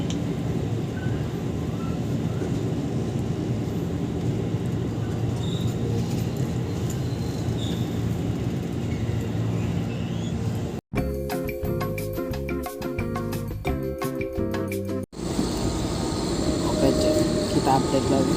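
Interior of a commuter train running from Jakarta toward Rangkasbitung, a steady low rumble and hum of the carriage in motion, broken midway by a few seconds of different, tonal sound before the rumble resumes.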